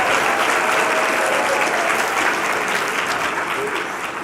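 Sustained, dense applause from a large audience at a general session of a justice-focused teach-in. It is loud and even throughout and fades slightly at the end, with no clear speech over it.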